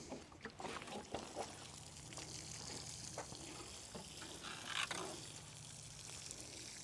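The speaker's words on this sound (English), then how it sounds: "And lastly, watering them in." Water pours steadily onto newly planted garlic in a vegetable garden bed, a continuous close splashing hiss with small gurgles and a brief louder surge near the end, no voices.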